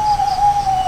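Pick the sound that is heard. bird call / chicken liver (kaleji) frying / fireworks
bird call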